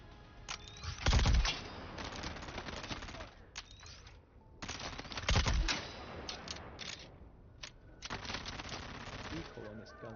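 Bursts of gunfire from a recoiling gun in the video game Dune Awakening: two loud rapid-fire volleys with further shorter shots, under a busy game soundscape.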